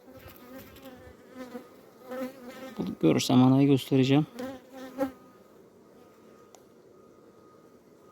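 Steady insect buzzing of many honey bees in an open hive with chalkbrood disease hums throughout, with a voice speaking over it in the middle.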